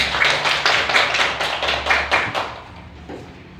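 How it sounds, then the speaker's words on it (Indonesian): A crowd claps steadily for a few seconds, the applause swelling in bursts before fading out toward the end. "Kita berikan tepuk tangan untuk aksi yang akan dilakukan kelompok 3."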